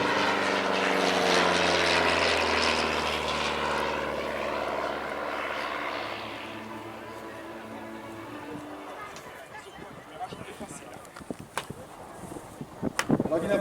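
A propeller airplane at an air show passes with a loud droning engine that fades as it moves away, leaving crowd noise and someone commentating over a PA.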